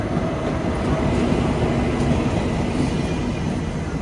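Older German ICE high-speed train rolling into a station, giving a steady, loud low rumble of wheels and rail noise that holds evenly throughout with no talk.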